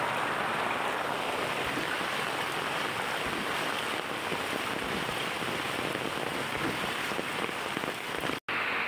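Heavy rain pours down steadily in a dense, loud hiss of drops on surfaces and pooling water, continuous throughout without pause.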